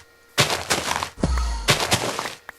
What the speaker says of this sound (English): And that sound you just heard was my magnet.